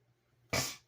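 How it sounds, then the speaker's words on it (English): One short, sharp sniff or snort breaks the quiet, a quick burst of breathy noise that fades within a fraction of a second. "Excuse my snorting and sniffing."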